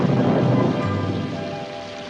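Steady heavy rain hisses outside with a low rolling rumble of thunder underneath, loud and continuous throughout, with no talk over it.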